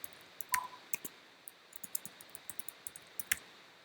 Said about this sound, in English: and then I'll type in a password.